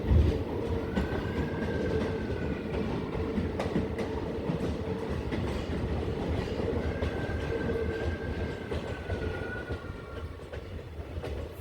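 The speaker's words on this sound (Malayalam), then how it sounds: "ട്രെയിൻ അങ്ങനെ അടുത്ത ടണലിലേക്ക് കയറുകയാണ്" A train on the Kollam–Chenkotta railway in Kerala rolls toward a tunnel, its carriages giving a steady, muffled rattle with faint wheel squeals drifting in and out, and no talking.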